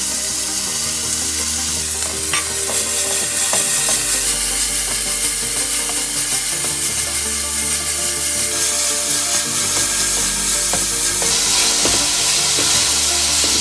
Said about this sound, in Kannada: ಈರುಳ್ಳಿ ಸಣ್ಣಗೆ ಹೆಚ್ಚಿಟ್ಕೊಂಡಿರೋ ಈರುಳ್ಳಿ